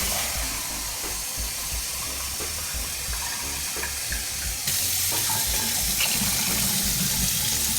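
Water pours steadily into a pot of Jamaican stew peas, a continuous rushing splash over faint sizzling, growing slightly louder partway through.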